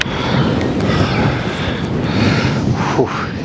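Morning wind buffeting a handheld camera microphone outdoors on a wildlife and landscape photography trip, a steady broadband rush with low rumble lasting throughout, no voices.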